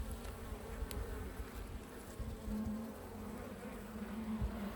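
A steady, droning hum of many honeybees buzzing continuously at an open hive during spring, close by, with no talking.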